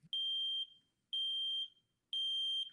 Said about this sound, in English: the alarm will beep